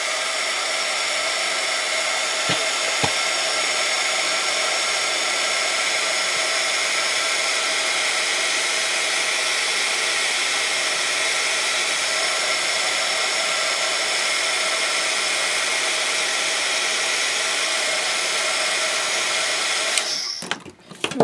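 A hair dryer blows steadily and loudly for about twenty seconds, drying paint on a canvas, then cuts off abruptly at the end.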